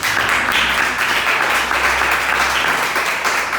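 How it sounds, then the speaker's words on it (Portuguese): A church congregation applauds during a service, a loud, dense and continuous roar of clapping that stays even throughout with no pauses. "Você pode aplaudir Jesus por essa palavra?"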